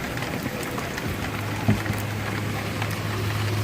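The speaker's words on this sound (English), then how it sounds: "It's raining real heavy, as you can see." Heavy rain pours down outdoors while someone changes the oil on a 2002 Toyota Camry, a steady broadband hiss with scattered drips and a low humming tone underneath.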